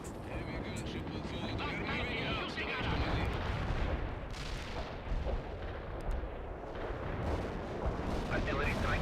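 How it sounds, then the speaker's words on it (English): Artillery barrage in the game World in Conflict, a dense, continuous rumble of booming impacts and blasts sustained throughout, with radio-style voices talking over it. "Artillery strike hits the mark."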